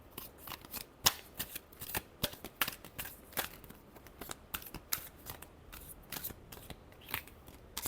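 Tarot cards being shuffled by hand in a rapid series of crisp riffling flicks and slaps, close and fairly quiet, with no voices.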